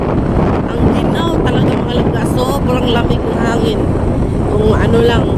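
Steady cold wind buffets the microphone with a constant low rumble in the very early morning before a Misa de Gallo dawn mass, while a person talks throughout over the roar.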